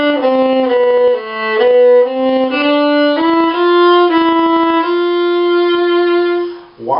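A second violin plays measure 89 of The Wizard of Oz as a smooth run of sustained, connected notes over about seven seconds. Close and fairly loud, with no voice.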